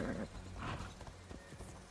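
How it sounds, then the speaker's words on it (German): Hooves clip-clop steadily and a horse whinnies in Immortals Fenyx Rising, soft and fairly distant throughout. "Oh, hi Pferdchen."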